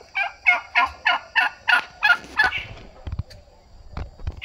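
Birds call in an aviary at a picnic spot: a loud, rapid run of about nine gobbling calls close by, then softer scattered knocks and rustles.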